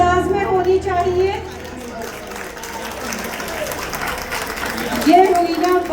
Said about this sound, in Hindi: भाई तालियां जरा भरपूर अंदाज में होनी चाहिए।